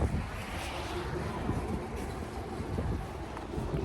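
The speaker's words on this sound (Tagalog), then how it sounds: "Lakas ng hangin, guys." Steady, rushing strong wind outdoors in Canada buffets the microphone with a constant low roar, fairly faint, with no voices.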